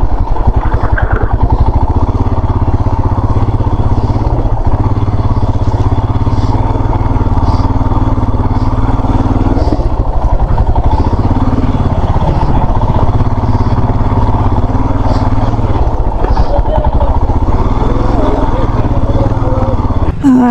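A motorcycle engine drones loudly and steadily throughout, with rattles and bumps as it rides a rough dirt track along a riverbank near Lumbini, and voices talk over it.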